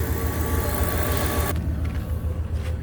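A truck engine idles after an IAC valve replacement, a steady low rumble with even hum that stays constant, close by, then the upper hiss abruptly drops away partway through while the low drone continues.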